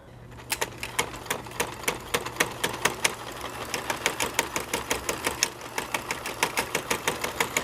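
A sewing machine runs steadily, stitching along a seam while sealing its start, its needle producing a fast, even train of sharp clicks over a low motor hum, close and continuous throughout.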